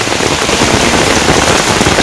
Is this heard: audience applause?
no